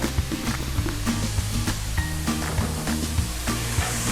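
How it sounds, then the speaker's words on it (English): Onions cook down in a hot pan with a pinch of salt, giving a steady, dense sizzle and crackle. Small pops and clicks sound throughout, heard close with no talking. "So just cook down our onions a little bit."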